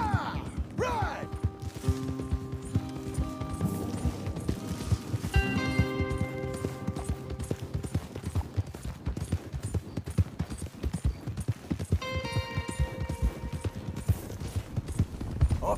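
Horses gallop in the Western video game Red Dead Redemption 2, a steady fast clip-clop of hooves running throughout with music tones and occasional game sounds layered over the drumming gait.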